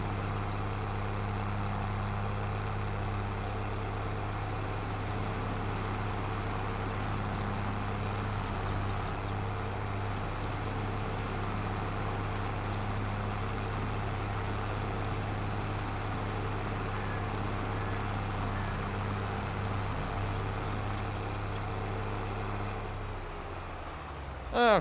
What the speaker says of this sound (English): Oh, the truck apparently has arrived.